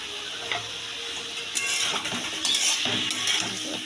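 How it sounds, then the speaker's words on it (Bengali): Bottle gourd with salt, cumin powder and turmeric is stirred in a pan. A spatula scrapes and taps against the metal over a soft sizzle, with the stirring strokes growing busier toward the end. "নাড়াচাড়া করছি"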